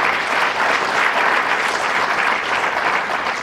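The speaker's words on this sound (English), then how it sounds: "Thank you, and give them a round of applause." An audience at a county address bursts into steady, dense applause with no break, loud and close throughout, and no talking over it.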